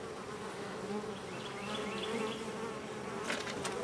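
Honey bees drone steadily inside a nursery nuc hive, a close, continuous buzzing that swells slightly with a few sharper bursts near the end.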